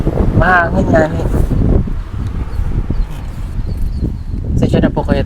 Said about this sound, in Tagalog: Mahangin nga ni.